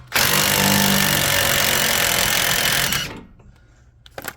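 Power ratcheting wrench loosening a bolt on the rear brakes of a Chrysler Pacifica, a loud steady mechanical whir running close-up for about three seconds before cutting off, followed by faint clicks.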